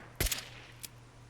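A vintage revolver rifle fires in Fallout 4: one sharp, loud shot with a quick follow-on crack, then a fainter second report about half a second later, over a steady low game hum.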